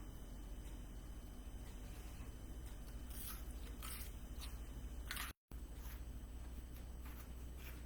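Crunchy Buc-ee's Beaver Nuggets are bitten and chewed close up, with several sharp crunches in quick succession under a faint background hiss and a brief dropout near the end.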